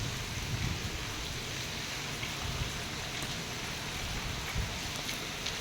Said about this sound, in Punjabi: ਬਾਕੀ ਤੁਸੀਂ ਮੀਂਹ ਦੇਖ ਸਕਦੇ ਹੋ ਮੀਂਹ ਦਾ ਤਾਂ ਕੋਈ ਹਾਲ ਹੀ ਨਹੀਂ